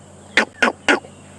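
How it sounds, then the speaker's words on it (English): Monkey alarm call in the African bush at sunrise: three sharp, loud barking calls in quick succession, evenly spaced, standing out against a quiet background hum. "there it goes again, is a monkey alarm calling."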